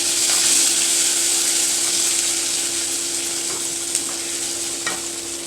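Ginger paste frying in a pan gives a steady, loud, close sizzle with a faint hum running under it and a few soft scrapes of stirring, with no talking.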